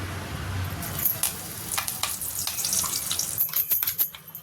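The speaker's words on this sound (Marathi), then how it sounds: "कढीपत्ता तडतडला" Curry leaves crackle and sizzle in a few spoonfuls of hot oil in a small pot on a gas stove, giving close, busy popping bursts over a steady hiss.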